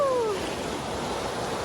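The Cabriales river rushes steadily along a wooded hiking route, a continuous broadband wash of flowing water with no voices, and a brief high whistling tone fades out in the first moments.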